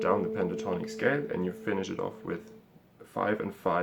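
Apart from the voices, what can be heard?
None of the usual background noises is heard.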